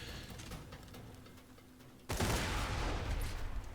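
The Seraphim, a weapon in Borderlands 2, fires as a sustained loud burst of rapid shots that starts abruptly partway through after a quieter stretch of game ambience.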